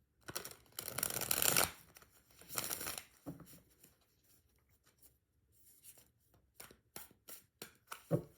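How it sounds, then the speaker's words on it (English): A deck of tarot cards is shuffled close by in a quiet room, with loud riffling bursts near the start followed by softer, scattered slaps and taps of cards being squared and handled. "One more shuffle."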